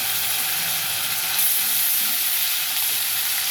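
Onions fried until red-brown sizzle steadily in a pan as ginger garlic paste is added for chicken liver curry, a dense, even hiss close by with no talk.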